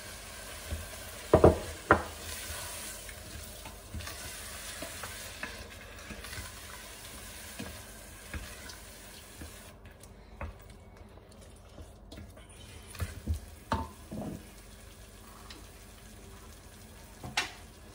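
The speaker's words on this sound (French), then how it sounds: "je mélange et là je rajoute les tomates râpées, les amandes" Grated tomatoes and almonds go into a pan of food being stirred, with a soft sizzle and scraping under a steady kitchen background, and a few sharper clinks and knocks near the start and again later.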